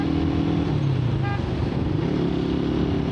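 Small 150cc motorcycle engine, a Suzuki Raider 150 or GSX-S150, droning steadily as the rider shifts from fifth to sixth gear, the pitch dropping midway before settling into a lower steady hum.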